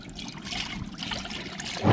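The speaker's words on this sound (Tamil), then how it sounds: "இந்த மசாலாவுக்கு லைட்டாக தண்ணி தெளித்து" Soft trickling and splashing of water sprinkled lightly onto a masala, a light sprinkle over steady low background noise, with a brief louder burst near the end.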